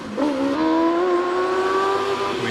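A hillclimb race car at Prescott accelerates through the S bends, its engine note climbing and then holding a strong, steady pitch, loud and close, with no voices.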